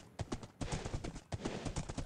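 Horse hooves clip-clopping in the Minecraft video game, a quick run of close, crisp hoofbeats in two bursts separated by a short pause, with no talking.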